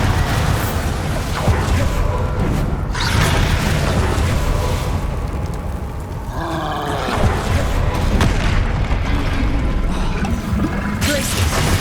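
Spell blasts from the Bombarda charm burst in Hogwarts Legacy combat, heavy booms and crackling impacts repeating over a dense, continuous fight din with no talking.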